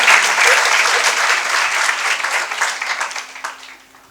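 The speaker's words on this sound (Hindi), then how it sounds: "ताली तो इतनी बज जाती है," An audience at a religious gathering bursts into loud, sustained applause that thins out and fades over about four seconds.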